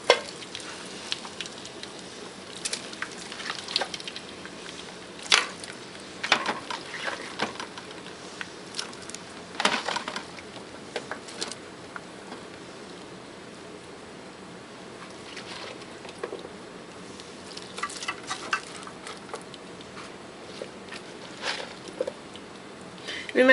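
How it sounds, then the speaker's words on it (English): Meat dropped into hot oil for Haitian soup joumou, a quiet steady frying hiss punctuated by sharp crackles and pops that come and go over a long stretch, heard close and alone without talk. "So now on the side, I had put some oil, and then I'm just gonna add the meat in here"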